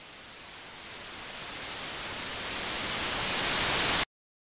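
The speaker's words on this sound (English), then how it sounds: "White noise." Steady hiss of white noise, broad and even, gradually swelling louder over about four seconds before cutting off abruptly into silence.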